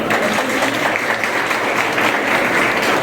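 A crowd claps in dense, loud applause at a morning Independence Day program at ITI Ambernath. The clapping holds steady and unbroken from start to finish.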